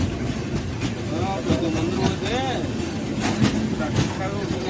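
An express train overtakes and passes through a junction station while the listener's train waits at platform one, a loud continuous rumble with rising and falling tones and rattling bursts, and faint voices underneath.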